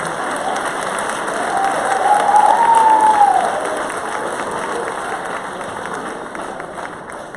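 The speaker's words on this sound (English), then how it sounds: "Please give him one more round of applause." Audience applause at a high school senior scholarship ceremony, steady moderate clapping that swells briefly in the middle, with a faint tonal sound rising over the crowd before easing back to even applause.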